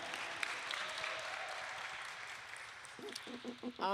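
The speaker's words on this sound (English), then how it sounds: "Give it up for Sister Ariel as she comes now. Clap, clap." Faint, diffuse applause from an audience at a Saturday morning community forum as a speaker comes up, a soft steady wash of clapping with a voice starting to speak near the end.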